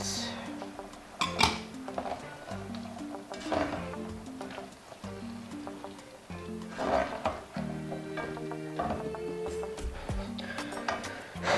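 Pepper paste being stirred into frying onions in a pot, with a spoon clinking and scraping against the metal in irregular strokes under a faint background sizzle.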